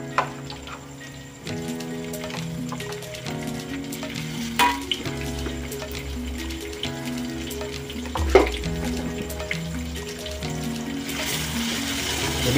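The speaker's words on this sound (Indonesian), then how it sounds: "Tumis dia sikit bagi dia garing sikit." Blended dried chili paste sizzles and fries steadily in a pan, with occasional stirring clinks and soft background music throughout.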